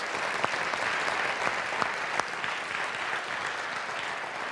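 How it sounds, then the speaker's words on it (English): An audience applauds during a university's State of the University address, a steady, full patter of many clapping hands with a few sharper claps standing out, continuing throughout. "That's worth some applause."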